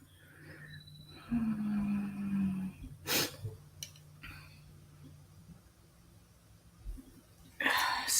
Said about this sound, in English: Sneezing, runny nose.